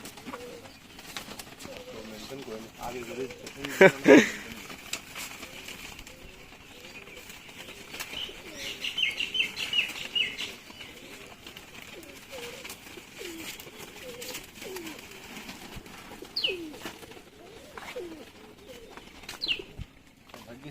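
Pigeons kept by a Bangladeshi fancier coo softly and intermittently through a long stretch of ambient noise, with a louder flutter-like burst early on and someone talking over much of it.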